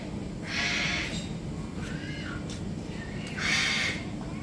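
Birds in an aviary at a bird park give two loud, harsh, drawn-out squawking calls, one early and one near the end, with a softer squeak between them over steady background murmur.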